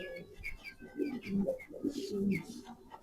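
Pigeons coo softly at a market stall where silkie chickens and pigeons are for sale, giving several low, throaty, rolling calls close by with faint chirps over them.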